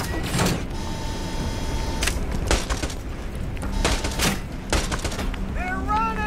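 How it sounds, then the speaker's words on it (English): A sentry gun firing in the Borderlands 2 video game: rapid mechanical bursts of shots with clanking and whirring, arriving in several short volleys amid game voices and effects. "Sentry gun primed!"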